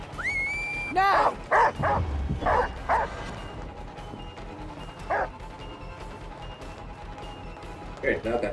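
Dog barks and yips from a hound in the Dead by Daylight video game, a cluster of sharp calls early on and a few scattered later, over a constant game hum with faint talk.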